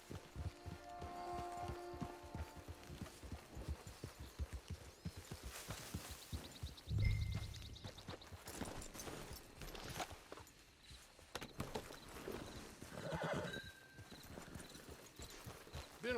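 Horse hooves clip-clop steadily at a gallop through much of the run in Red Dead Online, with a brief whinny and scattered game sounds mixed over the rhythmic footfalls.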